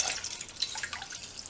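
Water pours into a pot of South Indian coriander and pepper rasam with tamarind and ground masala, a steady close splashing trickle with bright sputtering drops, heard alone without talk.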